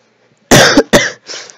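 Two or three harsh coughs in quick succession, loud and close, followed by a softer throat-clearing exhale.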